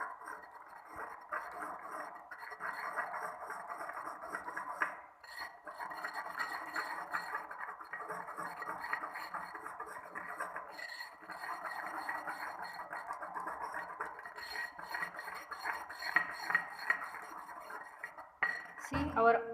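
A pestle grinds sterile ointment base and water for injection in a sterilized mortar for atropine sulphate eye ointment, making continuous, steady scraping and clinking. A brief pause comes midway.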